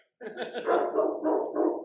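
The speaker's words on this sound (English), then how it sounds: "We'll take a barking break." A dog barks and yowls in a short, close burst of a few drawn-out, whining barks.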